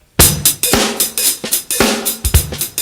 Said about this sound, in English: And you can mess with the hi-hat.